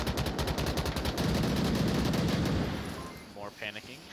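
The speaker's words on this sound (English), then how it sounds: "A lot of gunshots coming out from Doctor and Ninx" Rapid bursts of gunfire in the VR game Onward crackle loudly and densely for a few seconds, then thin out into scattered shots as a voice speaks briefly near the end.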